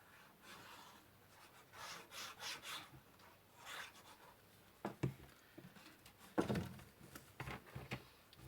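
Paper is pressed and burnished down inside a gift box in quiet rubbing strokes, a run of soft swipes followed by a few sharper scuffs and taps, close up with no voice.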